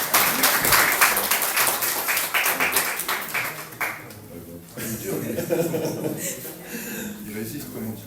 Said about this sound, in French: On peut applaudir pour nos frères.